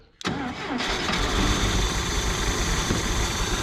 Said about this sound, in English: She's rough, but she's idling.